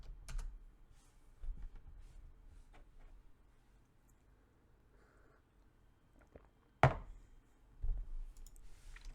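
Quiet close computer keyboard typing a grep command in a Linux terminal: scattered soft key clicks in short runs, then one sharper louder keystroke near the end followed by a few more taps.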